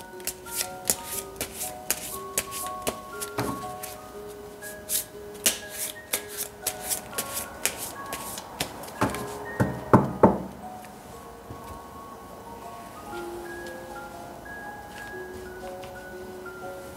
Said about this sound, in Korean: 추가 카드를 한번 더 뽑아보도록 할게요.